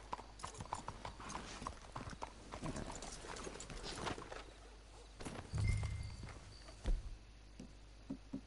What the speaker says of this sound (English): Can't you control that damn horse?